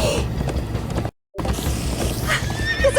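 Horses in the Minecraft Story Mode video game neigh and gallop in a steady clip-clop, loud and close, broken by a short gap of silence before the hoofbeats and high whinnies return.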